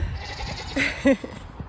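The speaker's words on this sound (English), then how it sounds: "The goats are screaming. They want a snack too." Goats on a farm give two quick bleats while waiting for a snack, near and fairly loud, the second sharper than the first, over a low murmur of background noise.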